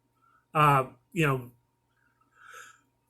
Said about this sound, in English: please excuse the yawning